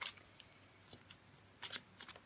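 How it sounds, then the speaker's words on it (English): Tarot cards being drawn from a deck during a reading, a few soft, quick close-up slides and flicks of card stock in otherwise quiet surroundings. "I'm going to pull another card"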